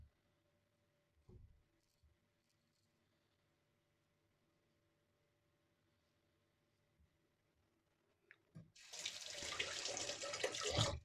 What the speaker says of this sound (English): Rinse this up beautifully,